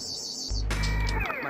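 A sonic screwdriver buzzes in the Wii game Doctor Who: Return to Earth, a short electronic whirr with a low droning hum and rising warbling tones lasting under a second, with no talk over it.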